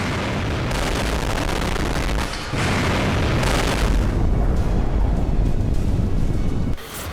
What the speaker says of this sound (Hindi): अचानक कुछ ऐसा धमाका होगा और ड्रैगन का आंगन तहस नहस हो जाएगा।